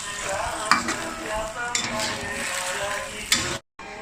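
Black fungus cooks with fishballs and live prawns in a home kitchen pot: a steady sizzle and bubbling runs throughout, broken by a few sharp utensil clinks from stirring, then cuts off abruptly near the end. No one speaks.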